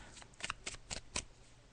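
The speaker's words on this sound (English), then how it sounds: "So I'm just shuffling the cards." Tarot cards being shuffled by hand, heard close up as about five quick, papery riffling bursts in a steady rhythm with no voices.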